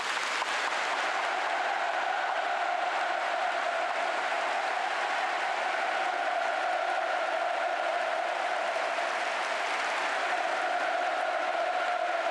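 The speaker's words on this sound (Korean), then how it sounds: "김정은 국무위원장께 아낌없는 찬사와 박수를 보냅니다." A vast stadium crowd at a Pyongyang mass gathering for Kim Jong Un keeps up a steady roar of applause and cheering, a continuous, even wash of sound from many thousands of people heard from a distance.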